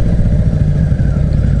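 A motorcycle riding along Kyoto streets, its engine a loud, steady, close rumble that holds an even tone throughout and has no speech over it.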